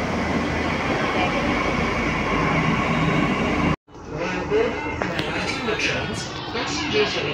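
A Delhi metro train at Mandi House station, a loud steady rumble that cuts off abruptly, followed by quieter platform ambience with rattles and distant voices.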